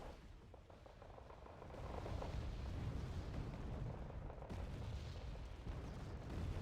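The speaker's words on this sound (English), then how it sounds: "So now I'm just using the artillery and bombarding around the place." Artillery bombardment in the war strategy game Wargame Red Dragon: a steady, dense rumble of distant explosions that grows louder after the first couple of seconds and keeps rolling without a break.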